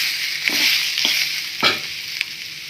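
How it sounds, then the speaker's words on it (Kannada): Cumin seeds fry in hot oil in a pan under a steady close sizzle, with four sharp scraping stirs of a spoon at roughly even intervals and no voices. "ಜೀರಿಗೆನ ಹಾಕಿಬಿಟ್ಟು ನೀಟಾಗಿ ಈ ರೀತಿಯಾಗಿ ಫ್ರೈ ಮಾಡಿ"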